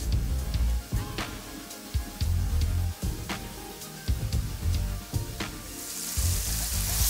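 Cuban pork chops browning in a crowded pan with garlic, giving a loud, steady sizzle and crackle broken by sharp pops and brief pauses as the pan is disturbed.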